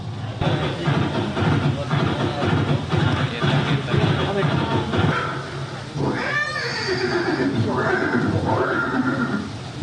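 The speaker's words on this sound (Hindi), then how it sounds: "ये दृश्य महाराणा प्रताप और सुविख्यात स्वामी भक्त घोड़े चेतक के अंतिम मिलन का है।" A horse neighs and whinnies in a museum scene of Chetak, Maharana Pratap's horse, at the Haldi Ghati museum. Several drawn-out whinnies come in the second half over steady background talk and hum.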